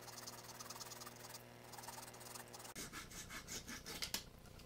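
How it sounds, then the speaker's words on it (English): Hand-cutting a quarter-inch edge off a plastic drain channel, a steady rubbing, sawing rasp that runs throughout and turns into choppier, brighter strokes partway through, close and alone. "So I am cutting off this 1/4-inch edge manually."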